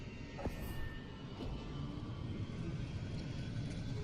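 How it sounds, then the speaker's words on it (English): A plane crash set piece in the War of the Worlds video game: a steady, loud aircraft roar and rumble with a couple of sharp impacts early on, and no speech. "Oh, is this the plane crash?"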